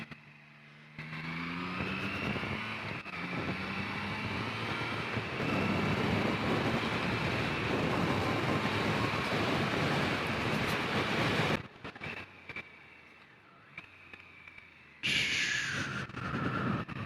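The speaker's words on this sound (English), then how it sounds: "And that sound. The exhaust. It sounds brilliant, absolutely brilliant." A Triumph Trident motorcycle engine and exhaust drone steadily at speed for several seconds, then the roar drops off briefly before rising again, loud and close.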